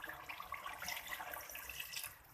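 About 1.5 cups of water are poured into a pot of fried spices for kofta biryani, giving a steady, soft hiss and splash throughout, faint and close, with no talking.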